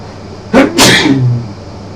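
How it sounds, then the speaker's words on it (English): A man sneezes once, loud and close: a short sharp intake followed by a forceful burst that trails off, set indoors at a repair workbench. "Ah, now I've got to sneeze."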